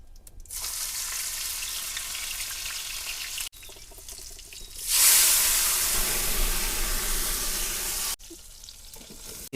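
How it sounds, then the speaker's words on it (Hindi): Vegetables fry in a kadhai set over an open dhuni fire outdoors, a loud sustained sizzle that cuts out abruptly twice and surges brighter midway as more food hits the hot oil. "महाराज जी धुने में कढ़ाई चढ़ा दिए, पहले सब्जी प्रसादी बनाएंगे"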